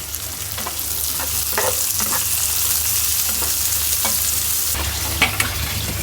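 Garlic and leafy greens fry in hot oil with a steady, loud sizzle, broken by repeated scraping and clacking as they are stirred in the pan, with no voices.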